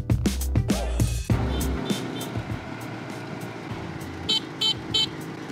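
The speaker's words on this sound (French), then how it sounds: "Très important de klaxonner quand on est près d'une montagne." A car horn sounds near a mountain at Sam Roi Yot in Thailand: heavy low blasts at first, then three short, clipped toots further on over a steady rumble of road noise.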